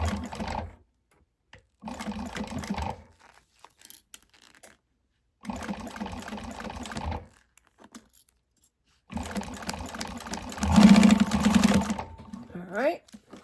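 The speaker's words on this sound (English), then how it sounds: "you're going to stitch this at the seam allowance that she gives you" A sewing machine stitches a bag seam in several bursts of fast mechanical whirring and clatter, separated by short pauses, close and fairly loud.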